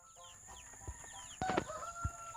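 Free-range native chickens on a farm cluck and call softly in short scattered notes, with a few louder bursts close by.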